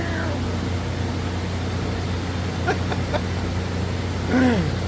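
A shop cat meows in a workshop, with a couple of short rising-falling meows near the end over a steady low engine-like hum.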